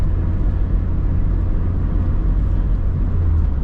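A 1987 Dodge Shelby Charger turbo is driven, heard from inside as a deep, steady engine rumble and road drone with no voices.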